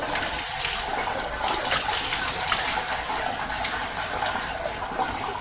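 Water spraying hard inside a steam boiler during washing out, a loud continuous gushing and splashing rush that fills the space nearby.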